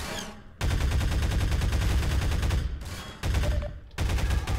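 Sustained automatic gunfire from a weapon in a Half-Life game, a dense loud rattling stream of rapid shots broken by two short pauses, close and continuous.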